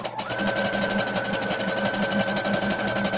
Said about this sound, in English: let's sew around using a stretch stitch